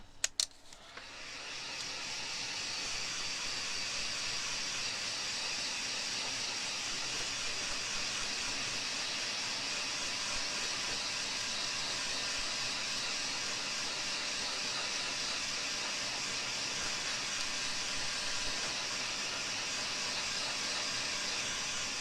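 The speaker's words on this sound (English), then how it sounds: "let's try it with a heat gun" A heat gun blows steadily over tooled leather, giving a continuous airy whine and hiss. It starts with a couple of clicks, comes up to full power within about two seconds, then holds an even level throughout with no talk.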